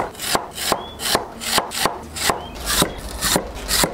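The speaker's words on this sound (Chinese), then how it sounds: "把土豆和莲藕切成厚厚的薄片子" Knife chopping potatoes and lotus root into thick slices on a board, about eleven steady, evenly spaced thuds, close and clear with no talking.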